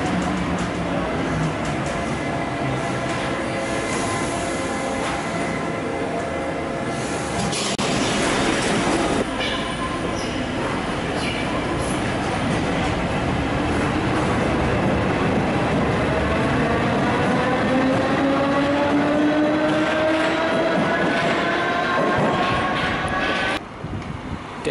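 Paris Metro line 12 train in motion, heard from inside the car: a steady loud rumble of wheels on rail with clattering joints, rising whines and squeals as it runs and brakes, continuous for the whole ride with no talk.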